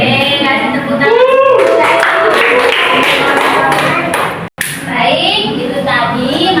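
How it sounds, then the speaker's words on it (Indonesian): A class of children claps hands during a classroom microteaching lesson on purification in Islamic jurisprudence, with a dense, steady patter filling the room and children's voices mixed in, briefly cut by a short gap. "Oke, kasih tepuk tangan."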